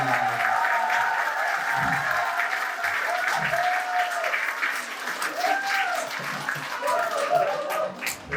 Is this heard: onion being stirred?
no